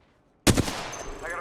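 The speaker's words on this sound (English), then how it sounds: "Shots fired and they're hitting me." Video game gunfire bursts in suddenly after near silence, a sharp loud volley followed by a fading rattle of shots.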